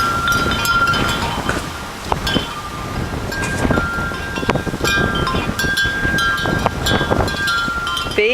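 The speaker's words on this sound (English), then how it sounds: "It's too windy." Strong, gusty wind buffets the microphone outdoors, a continuous broadband roar with rustling and flutter bursts throughout, while faint bird chirps and tones come through in the background.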